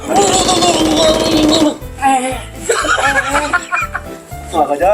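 A power drill in a workshop whirs loudly for a couple of seconds, then stops as people talk and chuckle over short bursts of buzzing.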